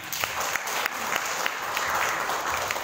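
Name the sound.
audience applause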